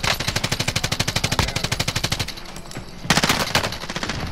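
Automatic gunfire in the Call of Duty: Modern Warfare video game: a long, loud, evenly spaced burst of rapid shots, a brief lull with scattered noise, then another dense volley, all up close.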